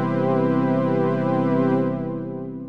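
A Serum synth patch of detuned square waves holds one buzzy, bright sustained note with a subtle 6 Hz vibrato from an LFO on the fine pitch, loud and steady before fading slightly at the end, with no speech.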